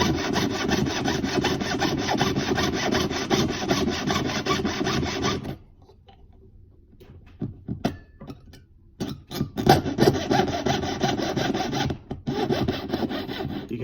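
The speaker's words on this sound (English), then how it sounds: "You'll hear the pitch rise, and then when you're almost cutting through the material, it'll actually drop." A hand saw cuts through material during pin riveting work, with steady loud rasping strokes that drop into near silence halfway through, then return as sparser, uneven strokes as the cut finishes.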